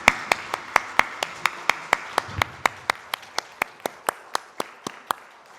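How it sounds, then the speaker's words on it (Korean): A church congregation claps together in a steady, even rhythm, about twenty sharp claps at a brisk pace, loud and close, with no voices over them. "하나님께 영광의 박수 올려드리겠습니다"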